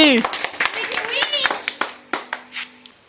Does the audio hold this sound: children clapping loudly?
yes